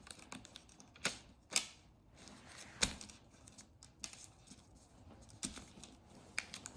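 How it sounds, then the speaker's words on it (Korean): Paper being folded by hand for an origami gun-and-sword model, heard as scattered sharp creasing snaps and crinkles close up, with softer rustling between them and no talking. "반대쪽도 똑같이 그 다음 또 이렇게 접어줍니다"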